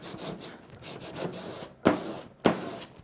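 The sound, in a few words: burnishing tool rubbing vinyl down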